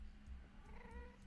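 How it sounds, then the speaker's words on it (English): Minecraft cats meowing in-game, a quiet drawn-out cry over a low steady hum, with no talking. "Something like cats."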